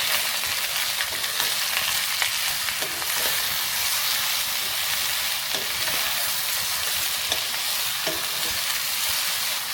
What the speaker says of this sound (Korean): 가지 넣고는 1분 정도만 볶아줄게요